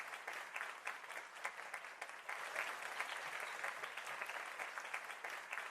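Dense, continuous applause from an audience at an economic discussion forum, even and sustained throughout with no voices standing out.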